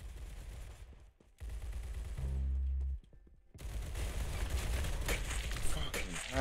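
Gunfire in Roblox Arsenal: a short stretch of shots, a pause with a low steady tone, then dense continuous rapid fire building toward the end, moderately loud.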